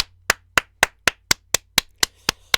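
A single person claps about ten times in a steady, even rhythm. Each clap is sharp, close and distinct, with no crowd joining in.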